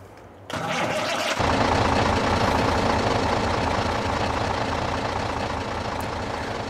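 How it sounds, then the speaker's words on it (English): A loud semi-truck engine in Farming Simulator 22 starts up and keeps running steadily with a heavy, rumbling drone and no letup. "I always forget how loud this semi-truck is."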